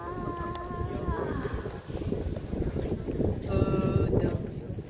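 Steady wind roars and buffets the microphone during snowfall in Niseko, Japan, a continuous rushing noise with a few tonal whistles rising over it.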